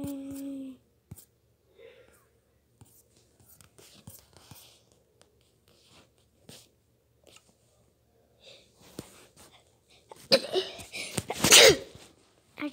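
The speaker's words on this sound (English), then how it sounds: "I just sneezed." Someone sneezes once, loud and close, preceded by quiet whispering, sniffing and soft intake breaths while playing Minecraft.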